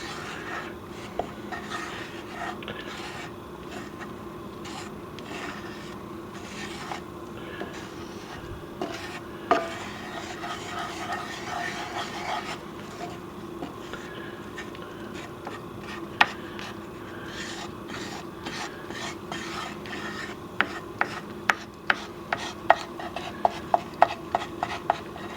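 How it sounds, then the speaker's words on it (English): A wooden stick stirs flour around in a pot while making chicken and dumplings, giving a steady scraping rub through the whole stretch with scattered sharper knocks and clicks near the end. "I'm going to stir the flour around here."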